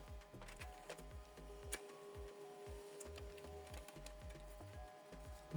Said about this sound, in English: So the second page is printing.